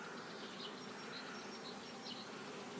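Young honey bees in a nucleus hive give off a soft, steady buzz, faint and continuous throughout with no voices.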